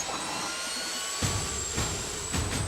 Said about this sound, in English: the Navy search and rescue helicopter crew, with Yosemite Rangers aboard, sets out to fly a newly concentrated search pattern